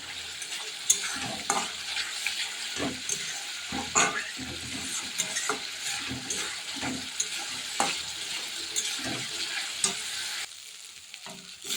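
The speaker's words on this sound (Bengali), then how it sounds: "আমার মশলাটা কমপ্লিট হয়ে গেছে কষানো" Masala spice paste for loitta fish curry fries and sizzles steadily in a pan while a spoon stirs it with repeated close scraping clatters, and the sizzle cuts off sharply near the end.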